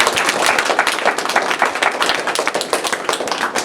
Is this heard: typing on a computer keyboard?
no